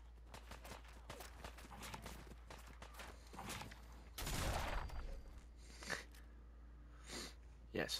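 Fallout 4 gunfire at a mole rat: a dense, loud burst of shots around the middle, followed by a few isolated sharp cracks, over a steady low game hum with scattered clicks and footsteps.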